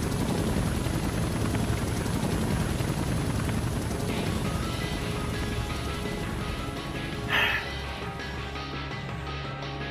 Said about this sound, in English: And now now you have choppers flying in.